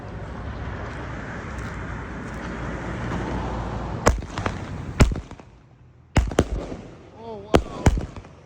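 A 16-shot Shake and Bake version 1 firework cake goes off outdoors: a rushing hiss of launches builds, then several sharp, loud bangs burst at irregular intervals with crackling in between.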